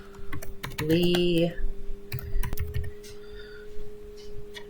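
Fingers tap out a name on a computer keyboard during a Cricut birth announcement design session, a quick run of soft clicks mixed with a woman's nearby speech.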